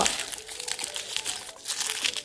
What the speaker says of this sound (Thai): เปลือกไข่ไม่ต้องทิ้งนะคะ ขยำขยำขยำแล้วก็